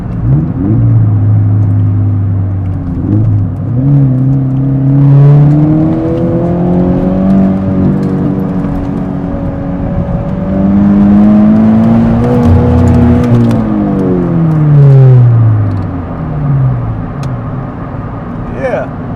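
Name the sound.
Subaru BRZ driving on a road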